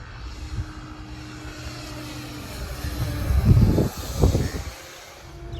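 A large twin-motor P-38 RC model plane, about 20 pounds with counter-rotating props and each motor pushing 1,800 watts, buzzes overhead at a distance, its drone swelling as it passes, with no talk.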